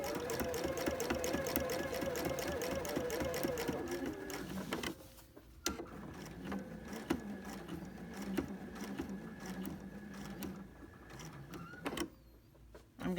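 A sewing machine stitches a diamond quilting design in rapid, even bursts of needle strikes with brief pauses between runs, moderately loud and close, quieter toward the end.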